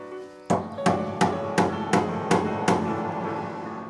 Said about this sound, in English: part of the pin goes into a pin block, and so that has to be hammered in